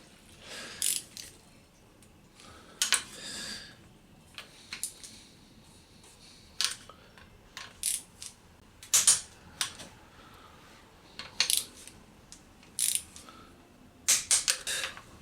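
Ratchet wrench clicks in short bursts while tightening a bolt to 20 Nm on a Honda NX 100 motorcycle engine during restoration, with quiet pauses between the clicking runs.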